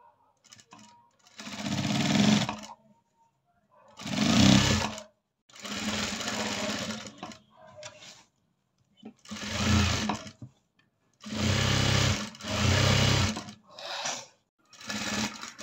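A sewing machine stitches a 36-inch chudithar top in repeated bursts of whirring, some short and some a couple of seconds long, separated by pauses, close and fairly loud.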